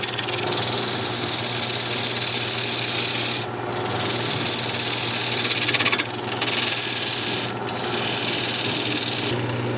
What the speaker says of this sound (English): Just going to bring a tenon down here on the end.